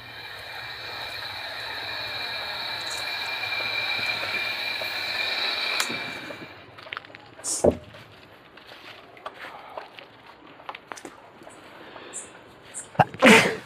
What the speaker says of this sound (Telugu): ఇప్పుడు నాకు తుమ్ము వచ్చింది